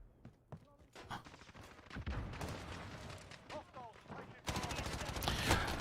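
Gunfire in a Modern Warfare multiplayer Domination match: rapid automatic shots crackle in steady bursts, building to a loud, dense volley near the end, with a voice talking over parts of it.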